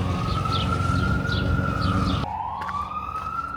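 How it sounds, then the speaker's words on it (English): An emergency vehicle siren wails steadily on a Bucharest street near the old Dinamo Stadium, a loud sustained tone that drops slightly in pitch partway through over a dense layer of city traffic rumble. "the siren sound is quite common for this city"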